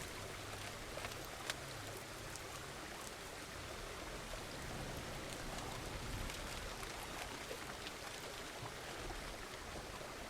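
Steady rain falling outdoors in the farming video game Farmer's Dynasty, a dense, even hiss of drops continuing unbroken with a low rumble underneath and no talking.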